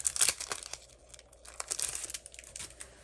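Paper and card being handled around a Stampin' Cut and Emboss machine with a Ladybug Picnic 3D embossing folder, giving soft close crinkling and rustling in short bursts, with no voices.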